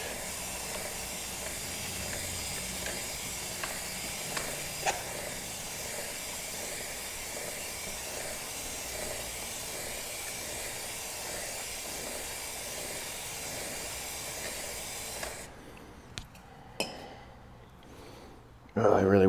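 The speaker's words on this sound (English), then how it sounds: "You just want to douse it and give it a good spraying" A steady, loud hiss of aerosol chain cleaner sprays onto a motorcycle chain for about fifteen seconds, then cuts off and gives way to a few clanks and handling noises.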